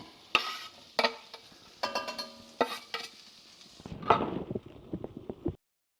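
Peppers and garlic sizzle in a pan while a utensil stirs them, giving a series of scraping clinks and bursts of frying that build toward the end before cutting off, with no talking.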